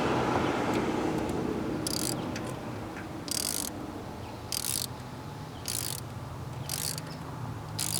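A 12mm ratchet tightening the nut on a car battery terminal gives six short bursts of rapid clicking at irregular intervals, heard close over a steady background hiss.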